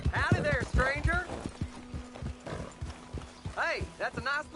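Horse in the western video game Red Dead Redemption 2: rapid hoofbeats clopping steadily up close, broken by a few voiced, whinny-like cries, with characters talking in between.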